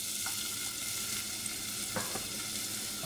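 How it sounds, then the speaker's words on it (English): Pepper and onion saute in olive oil, a steady, close sizzle with faint stirring scrapes, continuous and even throughout with no voices. "We're gonna saute the pepper and the onion."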